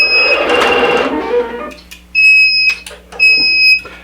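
A quilting machine working on an appliqued quilt sounds a loud, close obstruction alarm as a steady high electronic tone, which cuts off and then returns twice in short beeps after some mechanical rumble.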